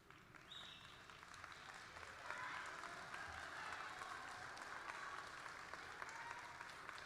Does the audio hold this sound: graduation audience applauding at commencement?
yes